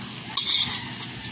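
Bananas turning and frying in a pan for bananacue, a soft stir and clink of a utensil followed by a brief sizzling rustle, close and fairly quiet.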